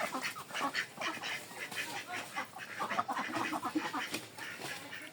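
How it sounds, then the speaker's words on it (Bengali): A flock of ducks quacks busily and continuously at close range while being herded into their shed at dusk, overlapping calls with no talking. "হাঁস মুরগি ঘরে তুলতে হবে"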